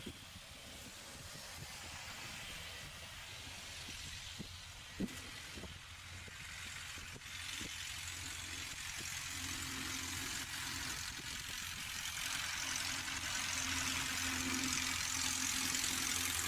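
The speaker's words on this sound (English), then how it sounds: "There's a couple of the guys who just landed now, taxiing by, headed to the South 40." Light aircraft taxiing past after landing during mass arrivals at Oshkosh, a steady mid-distance engine drone that grows slightly louder over the clip, with no talking.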